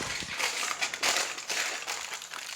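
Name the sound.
aluminum foil being crumpled around pie crust edge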